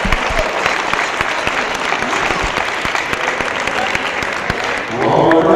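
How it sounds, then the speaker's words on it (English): A grappling match at the ADCC Great Northern Challenge ends with a loud, sustained round of applause from the crowd, a dense steady roar of clapping that swells slightly near the end. "I'm actually going to stand up and give them a round of applause."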